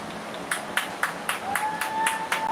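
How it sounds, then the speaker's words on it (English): Sparse, scattered clapping from a thin crowd at a women's football game, a handful of distinct claps spaced out and fairly faint, with a faint whistle-like tone partway through. "let's stand up and give them a round of applause"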